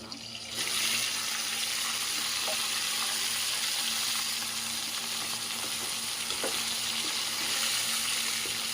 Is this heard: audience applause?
no